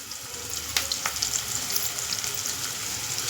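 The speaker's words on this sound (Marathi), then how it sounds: "कांदा व्यवस्थित फ्राय करून घ्यायचा आहे आपल्याला. आता टाकायचं हे वाटण." Ginger, garlic and green chilli paste sizzling with onions in a pan, a steady close frying hiss with a couple of brief sharp crackles near the start.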